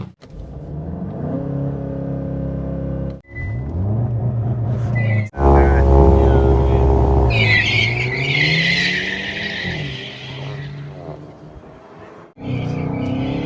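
A VW Golf 8 GTI and a Hyundai i30N launch side by side in a drag race, engines revving hard with tire squeal and rising acceleration, loud and close, with voices talking over the engines.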